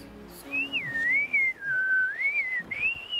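A Jeju sea diver surfaces and releases a held breath as a long, wavering, high-pitched whistle that rises and falls for about three seconds. Faint background sounds are heard at the start.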